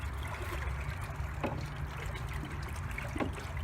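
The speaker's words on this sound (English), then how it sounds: "I'm just going to stir it up to make sure it gets mixed up nicely" Washing soda being stirred into water in an electrolysis tank gives a soft, continuous sloshing trickle, with a couple of slightly sharper splashy swirls standing out faintly over a low background hum.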